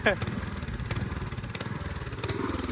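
A small farm tractor engine runs at a steady, fast putter close by during Konkan rice planting in muddy fields, with voices talking over it.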